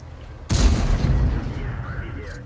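A tank cannon fires in World of Tanks, one sudden loud boom that rolls off into a fading rumble over about two seconds, heard on its own.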